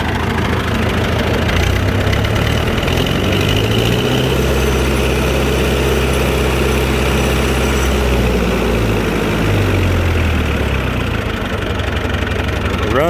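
A Massey Ferguson tractor engine idles steadily throughout, a continuous low diesel rumble with a faint knock and vibration, close and loud with no pauses.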